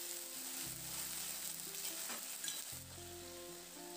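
Potatoes are stirred and fried with spice paste and a splash of water in a pan. A steady close sizzle runs throughout with light stirring scrapes, and soft background music plays underneath.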